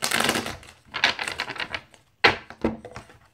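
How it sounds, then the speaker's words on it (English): A deck of tarot cards being shuffled, rapid papery riffles and flutters in several bursts with short pauses between, close and fairly loud, no talking. "One last shuffle."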